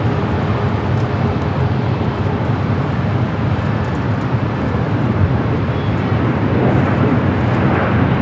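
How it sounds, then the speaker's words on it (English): A Boeing 777 cargo freighter rolling down runway 25 right at LAX makes a loud, steady engine roar that swells slightly toward the end, with no talk over it. "Cargo 777 freighter rolling down to 25 right."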